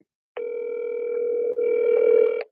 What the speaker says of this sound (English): Can you guys hear it ringing?